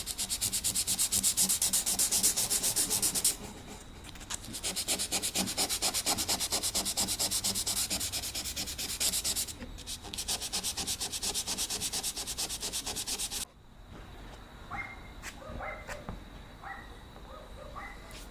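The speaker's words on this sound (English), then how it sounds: "Now for this, I'm going to have to get myself some 220 grit sandpaper. Just scuff it down because this is not sanded at all." Car primer being hand-sanded with 220 grit sandpaper before body filler: steady rhythmic scratchy strokes, loud and close, with brief pauses and a quieter stretch near the end, no talking.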